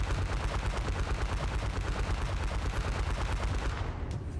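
Rapid, continuous bursts of automatic gunfire in the vehicle combat game Fields of Jackals, loud and dense with no pause.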